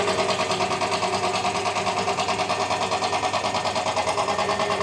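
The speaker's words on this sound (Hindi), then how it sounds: "हम ये सिस्टम को वैक्यूम कर रहे हैं, जिससे कि अंदर किसी भी तरह का मॉइस्चर या कोई भी गंदगी हो वो बाहर निकल जाए।" A vacuum pump evacuates the AC system of a Swift Dzire fitted with a new compressor and condenser, producing a steady, loud, pulsing mechanical drone that holds unchanged throughout.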